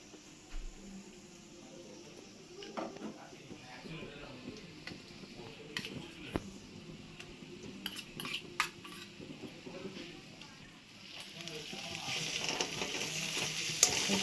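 Onions frying in a pan for Bengali mutton curry, a faint sizzle with scattered utensil clicks and scrapes, growing louder and hissier toward the end.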